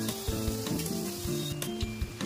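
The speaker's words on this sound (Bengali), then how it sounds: "আজকে কিন্তু আমার বর ডালপুরিগুলো ভেজে দিচ্ছে।" Dal puri frying in hot oil, a close, continuous sizzle and crackle with faint clinks of a utensil stirring.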